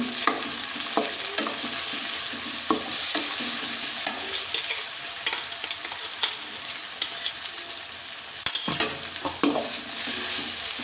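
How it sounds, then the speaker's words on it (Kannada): Ginger garlic paste sizzles steadily in a hot pan for an egg masala, with a continuous frying hiss broken by repeated scraping stir strokes, close and without talk. "ಈಗ ಇದನ್ನು ಚೆನ್ನಾಗಿ ಫ್ರೈ ಮಾಡುವ ನೋಡಿ ಫ್ರೈ ಆಗ್ತಾ ಉಂಟು"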